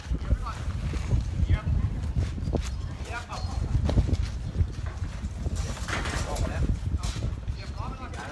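Strong wind gusting steadily at an outdoor market during equipment setup, a broad roaring rush with loud buffeting against the microphone throughout, while people talk underneath.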